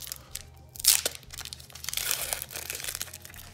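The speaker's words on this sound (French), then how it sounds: "On va ouvrir ce dernier booster." A Pokémon card booster pack is torn open and its foil crinkles, close and loud, with one sharp rip near the start followed by continuous crinkling and rustling.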